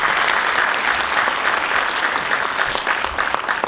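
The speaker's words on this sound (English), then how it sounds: "Please give him again a warm round of applause." Audience applause at a forum of the FIATA World Congress, a dense, steady wash of many hands clapping in a large hall, loud and sustained throughout.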